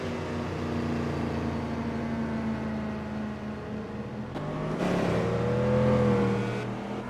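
A Pagani Zonda race car engine in the Gran Turismo 4 video game, a steady droning hum that shifts pitch partway through and rises as the car revs, with no talk over it.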